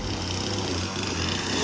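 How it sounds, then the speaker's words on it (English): Chainsaw cutting saddle notches into a log for an Alaskan hybrid log home, a steady buzzing engine drone that holds without a break and stays mid-distance and moderately loud. "Scott comes with the chainsaw and chainsaws them out"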